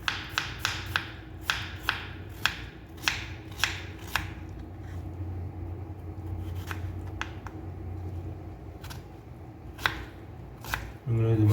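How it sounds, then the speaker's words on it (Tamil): Knife chopping vegetables into small pieces for wheat veg snacks, a quick run of sharp close taps on a board in the first four seconds, then sparser scattered strikes over a low steady room hum. "நீங்களும் இது மாதிரி கட் பண்ணிக்கணும் நண்பா, சின்ன சின்னதாக கட் பண்ணிக்கிட்டாலும் ஓகே"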